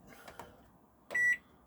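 A fitted microwave in a camper van gives one short, clear electronic beep as its settings are entered, preceded by a couple of soft clicks in an otherwise quiet interior.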